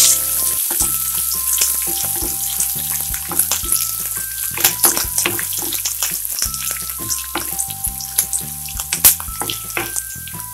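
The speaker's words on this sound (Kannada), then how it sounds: "ಒಣಮೆಣಸು, ಹಸಿ ಮೆಣಸು ಹಾಕಿ ಸ್ವಲ್ಪ ಬಾಡಿಸ್ಕೊಳ್ಳೋಣ." Dry red chillies and green chillies sautéing in hot oil for tamarind rice, a steady loud sizzle with scattered crackles and occasional clinks of a stirring utensil, no voices.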